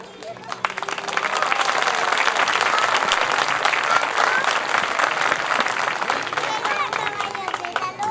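An audience at a Heritage Day talk about the Chilean horse in Aculeo breaks into sustained, dense applause, steady and loud for several seconds, with a speaker's voice carrying over the clapping.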